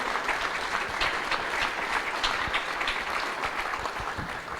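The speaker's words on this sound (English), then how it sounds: "Another huge round of applause for Prabhu." A big round of audience applause at a Sunday devotional gathering, a steady, full wash of clapping throughout that holds at an even level and eases slightly at the close.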